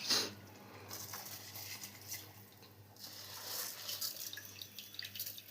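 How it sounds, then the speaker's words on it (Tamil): Water poured into a cooker for rice chicken biryani, a soft, close splashing and trickling that rises and falls in short surges. "கட்டில அரிசிக்கு ஒரு ஒன்று முந்நூறு தண்ணி ஊற்றணும்"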